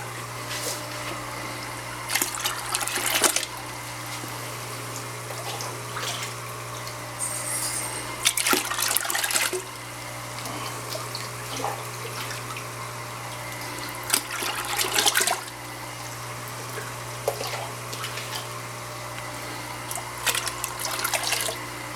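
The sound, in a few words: cups of salt water poured into rotifer bucket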